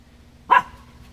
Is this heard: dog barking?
yes